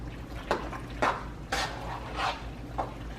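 Egg mixture being stirred into baked mac and cheese in a pot, a few soft scraping and clinking strokes of a utensil, close and fairly quiet, with no talk.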